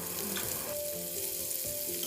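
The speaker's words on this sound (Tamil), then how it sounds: "இப்போது நம்ம மீன் எல்லாத்தையுமே எண்ணெயில் வச்சாச்சு." Pieces of milk shark frying in hot oil in a pan for a Kerala fish molee, a steady close hiss and crackle with soft stirring clinks throughout.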